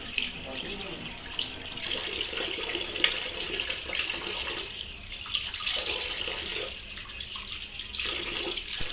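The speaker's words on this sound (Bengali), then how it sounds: "এখন ভালো করে ধুয়ে নিচ্ছি মাছগুলোকে" Tap water runs steadily into a sink while fresh hilsa fish are rinsed, with splashing and shifting flow as the fish are handled, fairly close and moderate in level.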